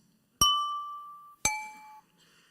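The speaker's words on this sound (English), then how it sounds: "the reason you hear this nice musical tone is because a wine glass is a very special case" Wine glass partly filled with liquid, tapped twice, each strike giving a clear, bright ringing tone that sustains and slowly decays in a quiet room.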